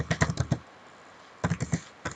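Two short bursts of clicking computer keyboard keys while entering data in Microsoft Excel, close up, separated by a quiet pause, with no one speaking.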